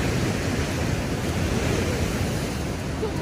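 A steady, loud wash of splashing water douses people, a continuous broadband rush like surf with no distinct pauses and no talk heard.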